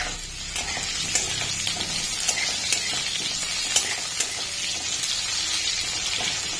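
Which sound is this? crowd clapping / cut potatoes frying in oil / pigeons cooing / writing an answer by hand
cut potatoes frying in oil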